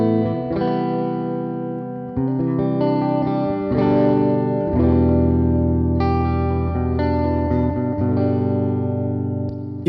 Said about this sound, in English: this is just like a classic reverb too by Fender